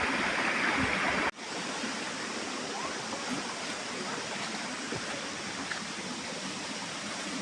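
The Secret Ella waterfall in Sri Lanka tumbles down over rock in a steady, broad rushing roar, briefly interrupted by a sharp break early on before the constant wash of water resumes.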